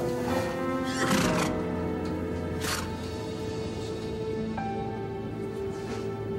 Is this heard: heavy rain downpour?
no